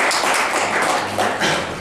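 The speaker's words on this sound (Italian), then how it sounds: "Hai detto diciamo un applauso" A dense wash of clapping from an audience at an Italian poetry book presentation, steady for a couple of seconds with a slight swell near the end.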